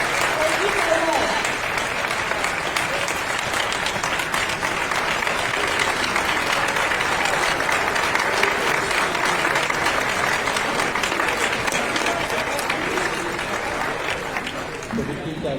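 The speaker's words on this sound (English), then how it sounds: "Could we keep that round of applause going for our new chancellor?" An audience applauds steadily for a newly announced university chancellor at an NCCU announcement, a sustained wash of clapping that holds throughout and thins slightly at the very end, with voices mixed in.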